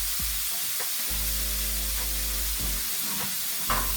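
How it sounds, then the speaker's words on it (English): Butter, garlic and rosemary sizzle steadily in a hot pan, a loud continuous frying hiss with a few brief clinks and stirring sounds on top. "butter's going in. Garlic and rosemary"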